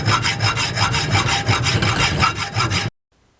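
A hacksaw cuts off the protruding end of a screw clamped between two nuts during a door handle replacement on a 1997–2001 Toyota Camry, a loud steady back-and-forth rasp of strokes close by, then abrupt silence.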